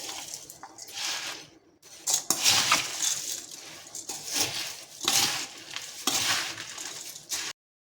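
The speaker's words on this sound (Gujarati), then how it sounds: "તો હવે આપણે બધું સરસ મિક્સ કરી લઈશું" Jhalmuri, a spiced puffed rice snack with cucumber and chanachur, being mixed in a bowl, giving a steady run of close rustling, scraping and light clinking over several seconds with brief pauses.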